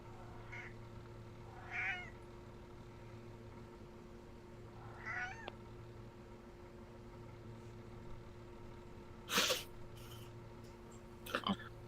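Cat meowing several times indoors, short faint mews scattered across the span and a sharper cry near the end, over a low steady hum.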